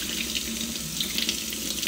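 Tap water runs steadily into a sink as backyard-grown produce is rubbed and rinsed under it, a close, continuous splashing stream with small bright spatters, no voices.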